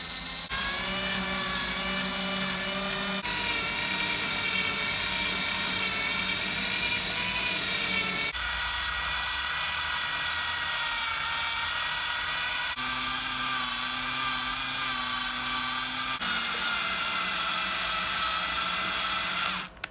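Steady high-pitched whine of an electric drill winding wire into an electromagnet coil, running continuously with a few brief pauses and pitch shifts as it spins, close and loud.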